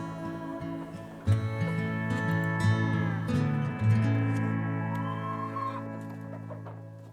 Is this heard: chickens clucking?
yes